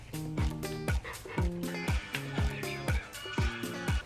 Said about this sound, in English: He is a mini Australian Shepherd